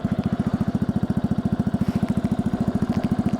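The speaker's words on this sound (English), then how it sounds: "It idles well, which is good." A Honda Cub motorcycle engine idles close by, a fast even putter of single-cylinder pulses that stays steady and loud throughout, with no talking.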